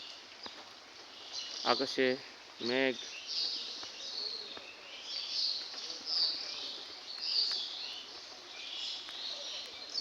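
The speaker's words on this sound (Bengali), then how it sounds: "পাখিদের কিচিরমিচির শব্দ" Birds chirp and flutter around a house rooftop on a cloudy morning, with faint scattered calls across the scene and someone speaking briefly near the start.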